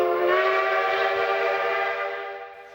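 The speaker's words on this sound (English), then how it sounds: "It's a turn-of-the-century, steam-powered locomotive that still runs daily." A long, loud steam whistle blows steadily and slowly fades, with the rumble of a turn-of-the-century narrow gauge steam locomotive beneath it, on the Durango and Silverton railroad in Colorado.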